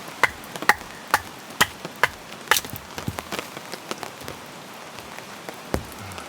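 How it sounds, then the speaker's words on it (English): Wet, sodden firewood being split at a rainy camp, with a series of sharp, close chopping cracks in an irregular rhythm over a steady hiss of rainfall. "Alright, let's get splitting."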